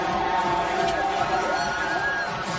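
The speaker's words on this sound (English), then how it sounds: "In front of a loud and rowdy crowd." A loud, rowdy crowd at a college football game between Air Force and Wyoming fills a stadium with a steady roar of chatter and cheering.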